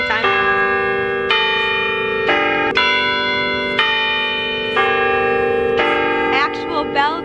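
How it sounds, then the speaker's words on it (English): Campus bell tower bells ringing loud and close, a sequence of rich, sustained tolls struck every second or so, each ringing into the next, with no talk. "Actual bell towers."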